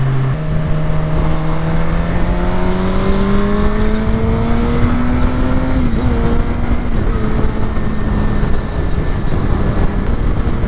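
A Suzuki GSX-R600 600cc motorcycle engine, ridden on a 100-mile daily commute. It revs loudly and climbs through rising tones, shifts, then keeps droning up amid strong wind and road rush, close and continuous.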